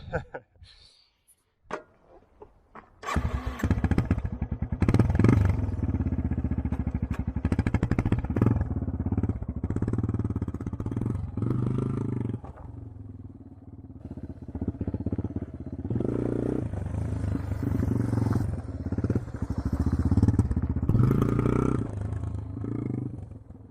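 Yamaha AG200 motorcycle engine during slow clutch-control practice, running close and steady at low revs with repeated swells as the throttle and clutch are worked, going nearly continuously after a quiet start.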